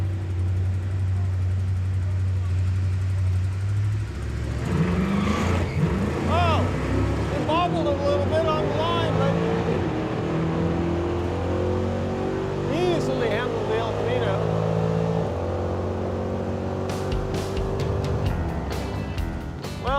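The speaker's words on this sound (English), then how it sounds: "here's Freiburger's lined up, he's doing his burnout" A Chevrolet Camaro does a burnout at a drag strip launch. The engine roars loudly and continuously and the revs climb, with a commentator talking over the noise.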